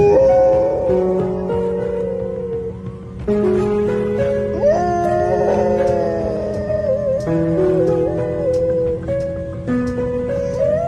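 A golden retriever howls along with a wailing ambulance siren, long rising and falling tones layered together and sustained loudly for about eleven seconds with a few brief breaks.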